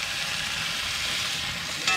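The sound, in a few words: butter sizzling in a hot pan with rosemary and garlic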